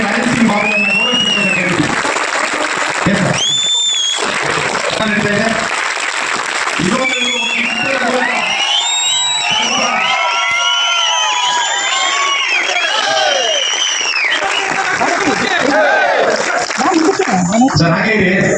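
An audience at a celebration honoring a veteran film director breaks into loud, sustained applause and cheering, with whoops and shouted voices rising through the clapping for nearly twenty seconds.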